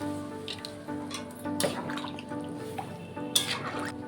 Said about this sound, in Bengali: আলু বেগুনটা কষানো হয়ে গেছে, জল দিয়ে দেবো।